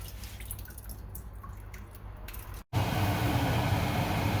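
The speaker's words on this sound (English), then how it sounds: "So just give it a little rinse" Tiger shrimp are rinsed under running water during cooking, starting with light dripping and then a sudden steady rush of water from a tap that is close and fairly loud.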